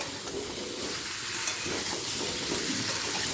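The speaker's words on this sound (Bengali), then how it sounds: "কুমড়োটাও আলু পটলের সাথে মিডিয়াম ফ্লেমে দু মিনিট ভেজে নেব" Pumpkin frying with potato and pointed gourd over a medium flame, a steady, dense sizzle and hiss running evenly throughout with no talking.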